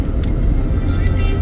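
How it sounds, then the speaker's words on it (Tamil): Road traffic makes a loud, continuous low rumble of car engines and tyres, steady throughout with faint higher hiss, and no voices. "சரியான டிராஃபிக்."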